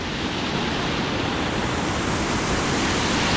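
Heavy water rushes over an eroded earthen spillway lined with undersized riprap, a loud, steady, broadband roar close by that fills the whole clip without any voices.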